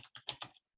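A short run of four or five rapid computer keyboard keystrokes, close and soft, clicking in a quick uneven rhythm before stopping, with no talking.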